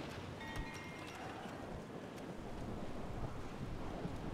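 A storm at a harbour in Medieval 2 Total War brings gusting wind and crashing waves, a faint, steady rush of noise with no voices.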